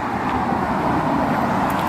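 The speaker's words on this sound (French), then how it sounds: "La voiture, de la voiture." A car passes on a road, making a steady, fairly close rumble of tyres and engine that stays even for the short moment it lasts.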